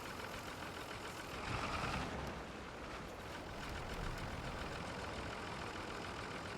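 A tractor engine running steadily in the video game Farming Simulator 25, a low continuous idle-like drone with slight swells in loudness and no talk over it.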